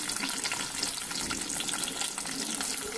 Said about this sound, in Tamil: வெந்தயம் பொரியுது